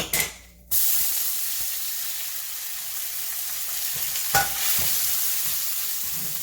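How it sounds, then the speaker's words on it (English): Rice noodles frying in about a tablespoon and a half of oil in a pan for Thai lad na: a sharp sizzling burst as they drop in, then a steady broad hiss with light stirring scrapes throughout. "we're gonna throw in our rice noodles"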